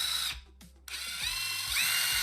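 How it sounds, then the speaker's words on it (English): A hand drill bores a hole through the center of a small craft piece, giving a close, whirring, ratcheting grind that starts and stops with a short pause and then keeps running steadily without speech. "we're going to carefully drill a hole right in the center"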